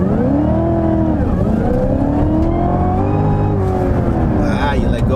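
A Cadillac V-series car accelerates hard on a track, its engine note climbing loud and close through the gears with shifts between rising pulls, while people talk over it.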